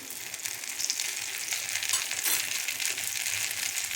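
A fasting dosa for Navratri fries in a little oil on a pan, giving a steady, close crackling sizzle throughout with faint scraping, no voices.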